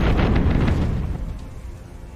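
Cannon fire from a ship in a Tortuga pirate naval battle game booms out in a heavy burst, then rolls and fades away over about two seconds, with no voices.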